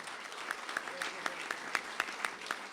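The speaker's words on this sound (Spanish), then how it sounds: "Lo recibimos también con un fuerte aplauso." An audience at a book presentation applauds with steady, rapid hand claps of moderate loudness that fill the space evenly throughout.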